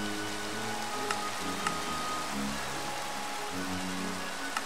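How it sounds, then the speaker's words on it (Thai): Rain falls steadily in Minecraft, a soft continuous hiss with faint droplet ticks, sitting low under sustained music-like tones, with no talking. "ฝนตกอีกแล้วอ่ะเนี่ย"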